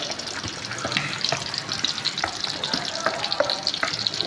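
Oily sizzling of ground green gravy paste for green chicken gravy frying in hot oil, steady crackle with occasional sharper pops, close and fairly loud, no voices.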